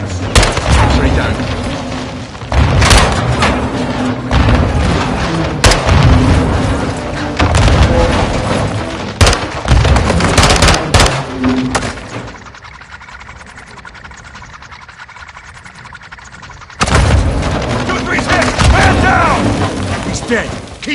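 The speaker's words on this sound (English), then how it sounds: "Incoming! Take cover! They're launching grenades!" Heavy grenade explosions and bursts of gunfire erupt repeatedly in Call of Duty Modern Warfare 2 (2022), with loud close booms and shots that drop into a quieter rumbling lull before firing resumes; voices shout among the blasts.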